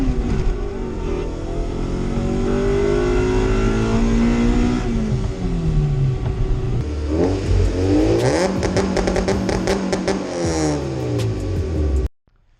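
A turbocharged, high-compression D16 engine in a Suzuki Vitara, running on E85, pulls hard through the gears, its loud rising engine note climbing and dropping with each shift before cutting off abruptly at the end.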